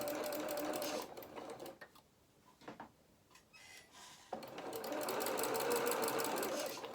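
A sewing machine runs a quarter-inch seam on a small skating coat, whirring steadily in two long bursts with a brief quiet pause between them.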